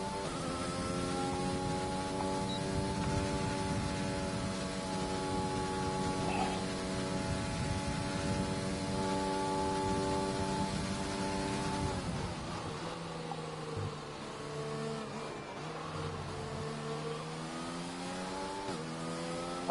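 A video-game F1 car on a fast lap on soft tyres sends out a steady, high engine whine with harmonic layers, held near and constant, then drops and climbs again through gear changes near the end.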